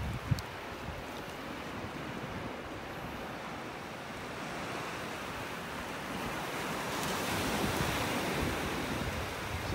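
Ocean waves wash onto a Florida beach in North Naples, making a continuous, fairly quiet rush of surf with gusts of wind buffeting the microphone.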